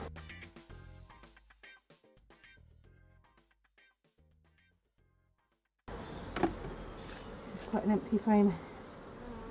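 Honeybees hum around an opened hive with national frames, a faint buzzing that turns busier and closer partway through, while a person speaks quietly.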